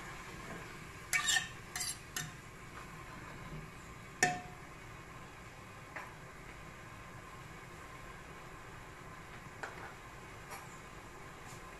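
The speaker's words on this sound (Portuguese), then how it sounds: "Agora eu vou virar a carne novamente" Pieces of beef are turned over in a pressure cooker pot, giving a few sharp metallic clinks and scrapes of a utensil against the pot over a faint low background, with long quiet stretches between them.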